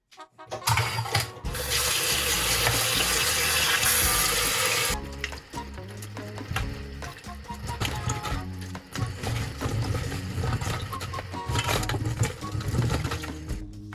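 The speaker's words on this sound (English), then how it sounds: "we need to get them washed, so I'll do that now" Tomatoes are washed under a running kitchen tap: a loud, steady rush of water for several seconds, then quieter splashing and clattering as the fruit is handled and moved about.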